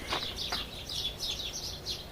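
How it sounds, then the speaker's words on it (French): Small birds chirp outside in short, high tweets, several quick calls in a row at moderate distance over quiet background. "Vous entendez les oiseaux?"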